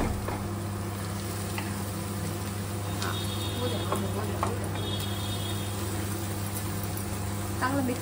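Pav bhaji mixture sautéing in butter in a home kitchen pan, a steady low sizzle with occasional stirring scrapes, close and continuous, with faint voices in the background.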